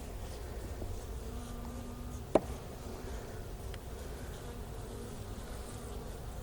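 Honeybees buzz steadily around an open hive during a routine inspection, a low continuous hum from many insects near and far, with one sharp brief click partway through.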